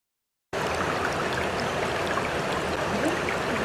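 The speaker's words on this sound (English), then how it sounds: "It was just sound of water flowing." Water flowing steadily, a constant broadband rushing like a stream that begins suddenly after a short silence and continues evenly at moderate loudness with no voices.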